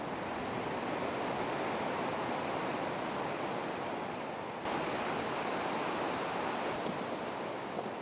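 A milky glacial meltwater river from Mount Everest rushes steadily in a broad, continuous roar of flowing water, fairly close, with no voices.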